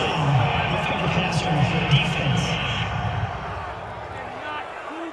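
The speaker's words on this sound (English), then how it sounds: "this crowd does not like that call" A stadium crowd at an NFL Monday Night Football game between the Bears and Steelers roars disapproval of a penalty call, a sustained loud wash of voices under a commentator's talk.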